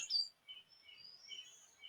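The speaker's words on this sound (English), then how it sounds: "you become aware of a blackbird sitting on a tree singing to you" A blackbird sings from a tree, a bright high chirp followed by thin sustained whistled phrases, faint and clear against a quiet background with no talk.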